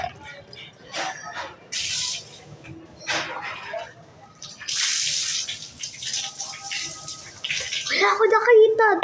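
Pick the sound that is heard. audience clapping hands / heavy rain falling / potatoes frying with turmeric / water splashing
water splashing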